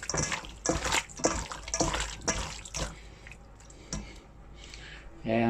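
Raw chicken thighs are washed under warm running water, bursts of splashing and squishing handling, then quieter trickling, with a person talking over it.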